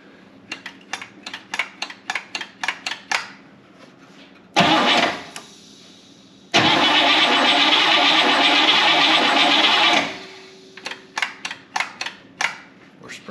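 A fire-damaged Buick Electra 225 being revived: a starter cranks in a quick rhythmic series, catches briefly, then the engine roars steadily for several seconds before dropping away, followed by more cranking, close and loud.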